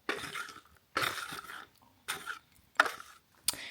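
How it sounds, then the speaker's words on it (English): Beans and chips being mixed in a meal bowl, heard as four separate bursts of scraping and rustling stirring with short pauses between them, close by. "Just mix everything up."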